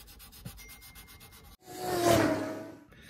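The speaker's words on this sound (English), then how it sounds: "I was still sanding." Hand sanding of a repaired Breedlove acoustic guitar neck, close abrasive rubbing with short rhythmic strokes at first, then a pause and one longer, louder sweeping stroke that swells and fades.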